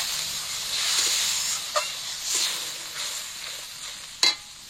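Spice masala sizzling and hissing in a hot pan as water is poured in, a steady soft frying hiss with a couple of sharp spits and clinks, no talking.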